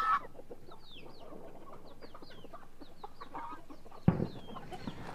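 Hens on a farm cluck and chirp in short, scattered calls at moderate distance, with a brief louder knock partway through.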